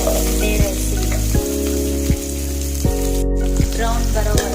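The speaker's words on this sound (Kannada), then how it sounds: "ಬ್ರೌನ್ ಬರೋವರೆಗೂ ಫ್ರೈ ಮಾಡಿ ಆ್ಯಡ್ ಮಾಡ್ಕೊಳ್ಳಿ" Sliced onions fry in a pot on a gas stove with a loud, steady sizzle, broken by a regular low mechanical hum that pulses on and off and a brief break partway through.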